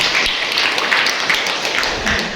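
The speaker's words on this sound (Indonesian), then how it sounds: "Tepuk tangan untuk kita semuanya." Participants at a Friday-sermon training and book-review session applaud together, a dense, continuous patter of clapping that stays fairly loud and even from start to finish.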